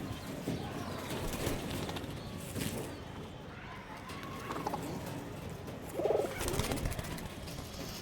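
Pigeons coo softly around a loft of birds kept for sale, with low throaty calls rising briefly near the end amid a murmuring, slightly noisy background.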